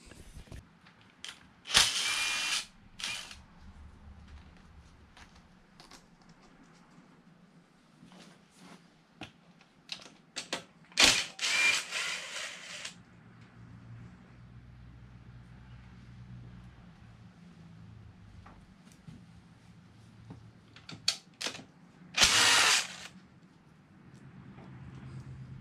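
Work on a Suzuki 50cc ATV carburetor, as bolts come off: quiet scattered clicks and metallic handling with several loud, brief bursts of rattling or ratcheting, separated by stretches of near silence.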